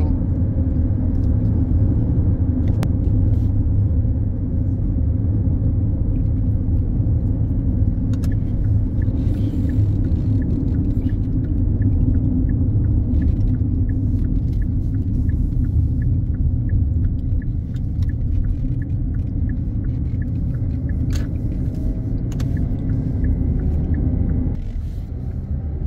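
An interior engine and road rumble of a car driving to a store, a steady low drone with faint ticking over it that holds without a break, then dips slightly near the end.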